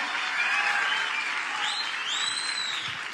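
Audience applause at the 2018 Olmué Festival comedy show in Chile, a dense, steady wash of clapping from a large outdoor crowd, continuous and fairly loud, with faint whistles rising above it.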